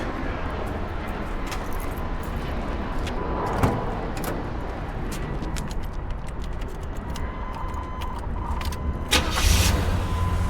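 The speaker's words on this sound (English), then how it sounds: "I'm going to start it up so you can hear it real quick." A 1987 Chevy Monte Carlo engine with factory exhaust cranks and settles into a steady idle, a continuous low rumble close up, with a brief louder rev near the end.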